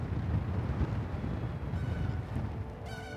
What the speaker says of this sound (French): il n'y a pas de bruit, il y a juste le vent.